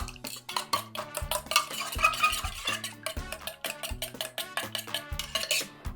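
A fork briskly mixing sugar with oil in a bowl, rapid rhythmic clinks and scrapes of metal against the dish, close and clear with no voices.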